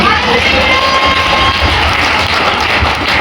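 A church congregation breaks into loud, dense crowd noise, cheering and shouting with scattered claps mixed in, continuous and close for the whole few seconds.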